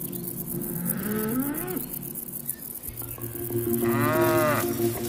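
Dairy cows grazing an alpine meadow above the Königssee give two long, drawn-out moos, close and loud, with light cowbell clinks underneath.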